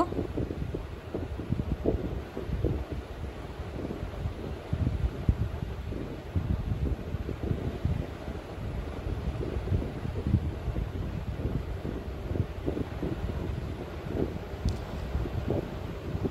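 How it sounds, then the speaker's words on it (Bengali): Lentils and dried chilies are ground by hand on a flat grinding stone, making a steady rough scraping rumble with irregular short strokes throughout, fairly close. "এবার ডাল আর মরিচগুলো একটু একটু করে পিষে নেব"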